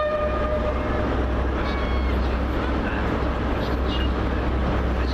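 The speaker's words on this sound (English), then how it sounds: "Now departing the 1421, First Great Western Service." First Great Western passenger train departing Bristol Temple Meads station, a steady loud engine rumble and rolling wheel noise with faint tonal whines, under station ambience, no clear talking.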